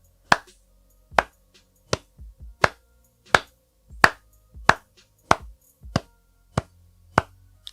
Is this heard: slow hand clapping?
yes